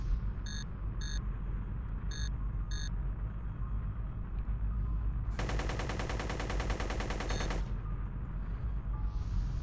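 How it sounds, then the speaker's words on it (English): Rapid-fire gat gun in a space combat video game shooting at a probe: a dense, fast mechanical burst of shots lasting a couple of seconds, preceded by a few short electronic beeps over a low ambient hum. "See if we can't take this probe out with a gat gun."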